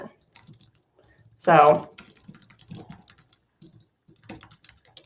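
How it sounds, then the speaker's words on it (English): Live typing on a computer keyboard during an email demonstration, soft clicking keystrokes in short scattered bursts, with a brief spoken word and one louder sound partway through. "live typing."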